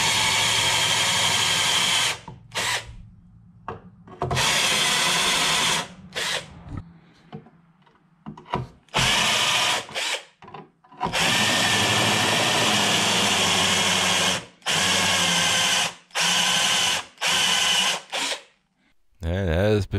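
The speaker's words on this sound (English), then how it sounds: "I have to drill the spot welds" A power drill bores out spot welds on the rocker panel of a Mercury Sable station wagon. Loud, shrill whining bursts are cut by short pauses as the bit bites into the sheet metal, heard up close.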